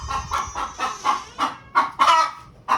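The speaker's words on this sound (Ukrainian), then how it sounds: "Курочка кукает." A hen clucks in short repeated bursts close by in a village yard, about ten rhythmic clucks rising slightly in intensity toward the end, with no talking.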